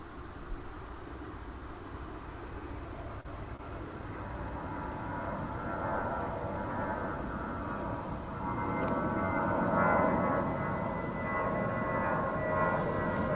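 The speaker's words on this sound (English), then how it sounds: "A colorful little jet. I think it's an A319." An Airbus A319 jet at DFW Airport gives a steady, moderately distant engine roar with a whining tone that slowly builds and swells toward the end, heard alone without speech.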